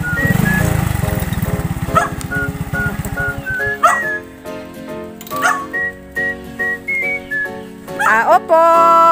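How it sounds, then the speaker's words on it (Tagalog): Dog on a farm giving a series of short barks and whimpers, close by, mixed with whistling tones and a low motor rumble at the start. "Naku, may aso."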